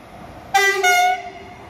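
Z 20500 RER D commuter train at Maisons-Alfort sounding a loud, sustained two-tone horn blast of about half a second, rising sharply from the quieter background rumble of the passing train.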